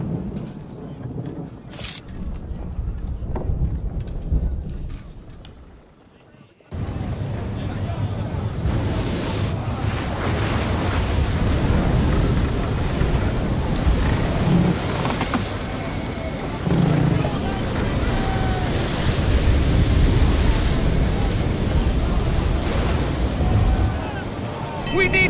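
Ship sailing into a storm at sea in Assassin's Creed III, a dense roar of wind, crashing waves and rumbling thunder that swells loudly after a brief lull, with voices talking within it.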